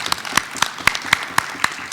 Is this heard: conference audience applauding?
yes